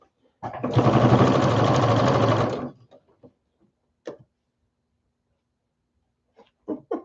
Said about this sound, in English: let's get the rest of this sewn. I'm going to back stitch because we're starting in the middle.